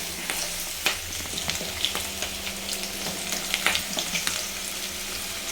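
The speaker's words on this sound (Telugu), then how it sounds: "ఇవి కొంచెం బాగా ఫ్రై చేసుకుందాం ఫ్రెండ్స్." Urad dal dumplings frying in a pan, giving a bright, continuous close-up sizzle dotted with crackles and light stirring clicks throughout, with no voices.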